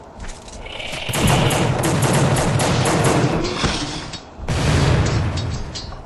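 Gunfire in the PC horror game The Suffering: Prison is Hell, dense rapid bursts and booming shots filling the scene, with a brief lull before another loud volley.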